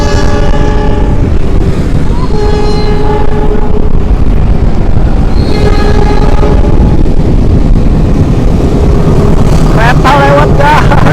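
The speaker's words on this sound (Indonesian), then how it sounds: "Kereta lewat guys." A train rolls past at close range in Cibinong, a loud, continuous rumble and clatter with sustained horn-like tones sounding several times, and a voice briefly speaking over it.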